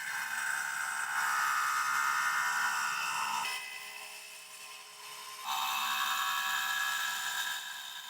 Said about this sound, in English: This is a jig that we've made for cutting the slots for the Spanish foot